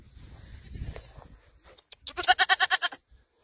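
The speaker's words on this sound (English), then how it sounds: "They got some fainting goats out here." A fainting goat on a rural property lets out one loud, close, vibrato bleat of quick pulses, after a stretch of soft background sounds.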